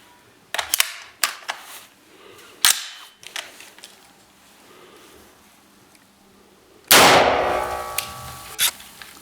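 A 5.56 55-grain ball round is fired at a curved Level 3 armor plate, giving one loud sharp gunshot crack with a ringing metallic decay, preceded by several faint clicks and handling knocks.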